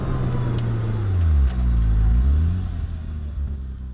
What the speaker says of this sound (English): So this is it, my 2008 Porsche Cayman S